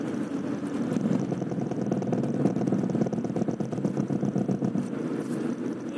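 A car slows from about 60–70 km/h as its brakes bite against a vibrating brake disc, giving a steady rumble of engine and road noise with a fast rhythmic pulsing running throughout.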